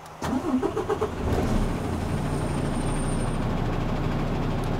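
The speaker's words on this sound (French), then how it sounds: "Je démarre dans un premier temps le moteur." A truck engine cranks in a quick run of rhythmic pulses, catches, and settles into a steady, low idle rumble that continues close and loud, with no talking over it.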